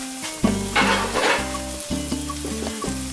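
Whole garlic cloves still in their skins sizzle and fry steadily in a hot pan, a continuous close crackle with a few stirring scrapes, no voices.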